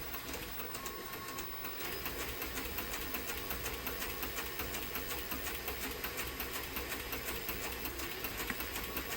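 A Cobra 4 sewing machine winds thread onto its bobbin with a steady, fast mechanical whir and a regular ticking rhythm, close and continuous throughout, no voices.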